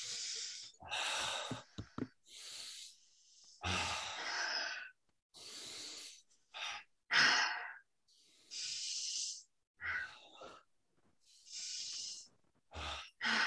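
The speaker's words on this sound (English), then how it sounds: "Keep breathing." Deep, forceful breaths during a timed breathing exercise, long hissing inhales and exhales in an irregular rhythm separated by short silences, close and fairly loud with no talking.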